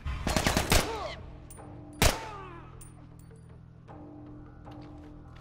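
Gunfire in The Last of Us: a burst of rapid, loud shots at the start, then a single sharp blast a moment later, followed by faint clanks and a steady low game hum.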